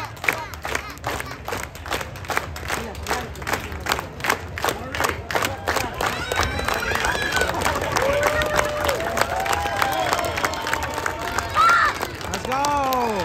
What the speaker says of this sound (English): Give me a slow hand clap, clap, clap, clap